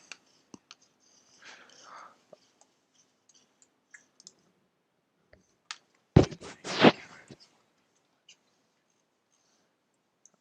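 Sparse, light keypresses on a late-2009 MacBook running Mac OS High Sierra, with a few isolated clicks and a short, denser rattle of taps with system button sounds partway through, otherwise near silence.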